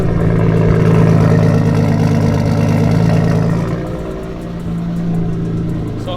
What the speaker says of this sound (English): So car obviously started.